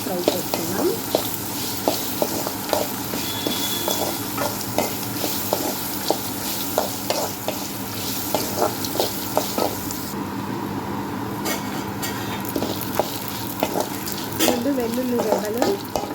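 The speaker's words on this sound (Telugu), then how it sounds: "కలర్ కొంచెం చేంజ్ అయ్యే వరకు ఫ్రై చేసుకున్నాం." Chopped onion frying in a pan for carrot pachadi, cooked until its colour changes: a continuous close sizzle under a dense, fast run of spatula clicks and scrapes, with a faint voice briefly heard.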